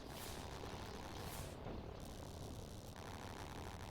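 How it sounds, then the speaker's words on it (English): Helicopters in a real-time strategy video game give a steady, dense rotor and engine roar that fills the whole stretch at constant level, with no talking. "So we've got the helicopters for Nubs as well"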